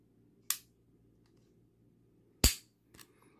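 Sharp, crisp clicks from the trigger of a Ruger American pistol being dry-fired and reset, three isolated snaps spaced over a few seconds against near silence.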